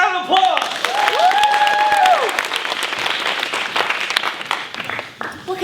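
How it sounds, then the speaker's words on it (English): A theater audience at a comedy show gives a big, sustained round of applause mixed with cheers and whoops, loud and steady for several seconds before tapering, with voices rising over it. "let's do this after a big round of applause"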